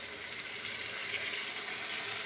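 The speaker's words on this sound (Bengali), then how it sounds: "আমি সম্পূর্ণ জলটা দিয়ে দিলাম।" Water from boiled young jackfruit is poured into a cooking pot, giving a steady, soft splashing and trickling that continues close by without any talk.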